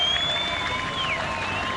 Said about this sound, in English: Warm applause from his fellow players, and there are a lot of Dutch fans here in the ground